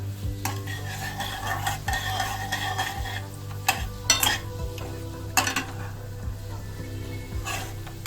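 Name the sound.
dry chilli, bay leaf, cinnamon, cardamom, cloves sizzling in oil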